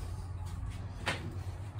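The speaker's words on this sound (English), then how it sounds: "And open the screen door and take a look at the door that was redone." A screen door on a house with a stone area swings open, giving a brief, quiet clack and rattle partway through over a soft, steady background hiss.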